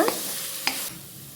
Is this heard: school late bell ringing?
no